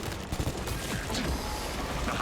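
Dense, continuous combat noise from the Space Marine 2 video game, with heavy gunfire blending into a steady loud roar, heard while using a heroic bolt sniper rifle.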